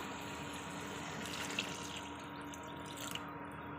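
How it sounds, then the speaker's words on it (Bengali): Water is poured into a pan of spiced fish curry masala, a steady, moderately loud rushing splash that continues throughout with a few brief drips near the end and no talking. "এবার জল দিয়ে দেবো"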